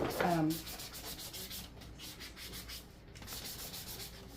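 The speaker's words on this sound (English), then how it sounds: "after you're done sanding it" Quiet rhythmic rubbing of sandpaper on a craft piece, repeated strokes close by with a faint scratchy texture.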